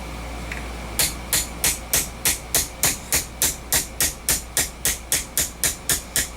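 A hammer drives a pin through a Smith & Wesson M&P 40 pistol part: one light early tap, then a steady run of about sixteen sharp, evenly spaced blows, close and crisp.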